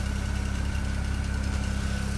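A BMW engine idles steadily just after start-up, a low, even mechanical hum with a faint whine running continuously and alone.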